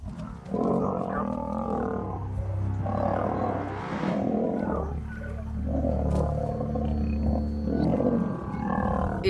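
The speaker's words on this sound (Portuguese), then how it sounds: "Eles rugiam e faziam barulhos assustadores." Wild male lions fight and roar in a series of deep, rumbling growls and snarls that rise and fall, with someone narrating over them the whole time.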